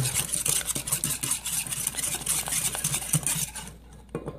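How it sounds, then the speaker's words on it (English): A spoon stirs a thick mixture in a pot to keep it from separating, with close, busy scraping and clinking against the pot that stops abruptly near the end. "I'll give it a stir"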